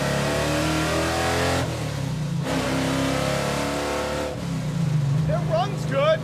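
A drag car engine idles and revs loudly and steadily under people talking nearby, with a brief dip midway before the rumble returns.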